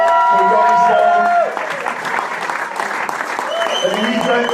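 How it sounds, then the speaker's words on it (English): Audience applauding at the end of an interview panel, a loud dense burst of clapping that eases to steadier lighter clapping, with some cheering and voices mixed in. "another massive round of applause for Ronnie Stone"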